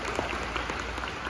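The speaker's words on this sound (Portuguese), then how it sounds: "Aplauda ele bem forte, querido." A church congregation claps in a brief, dense burst of applause, steady and moderately loud throughout.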